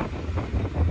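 Wind buffets the microphone at sunrise in the open Mauritanian desert beside the iron ore train, a short, steady, low rushing roar with no other sounds.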